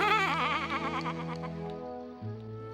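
A cartoon sheep-like creature lets out a long, wavering bleat, close and loud, followed by a short lower bleat at the end.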